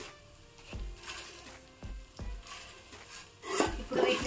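Urad dal and coriander seeds dry-roast in a pan for a curry leaf spice powder, giving soft repeated scraping and clinking as a spoon stirs against the metal, with faint rustling of the dry seeds between strokes.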